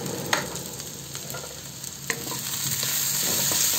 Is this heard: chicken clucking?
no